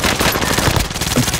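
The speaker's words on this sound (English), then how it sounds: "That is someone shooting at him." Continuous automatic gunfire in Call of Duty: Modern Warfare, a dense, loud burst of rapid shots filling the whole moment.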